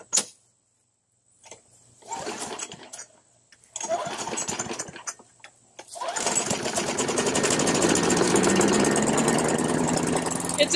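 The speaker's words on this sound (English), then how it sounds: "check this out. It actually starts." Old Craftsman lawn mower with a classic Briggs & Stratton L-head engine in rough, neglected condition: a few sputtering cranking bursts with pauses, then the engine catches and runs loudly and steadily.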